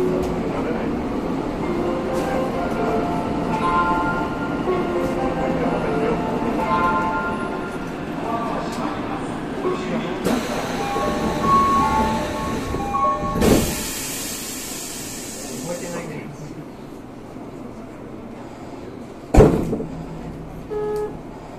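A Tokyo Metro 13000 series commuter train departs Nishiarai station on a local service to Tobu-Dobutsu-Koen, a steady rolling rumble building and shifting, with a hiss burst and a sharp knock near the end, under onboard announcements.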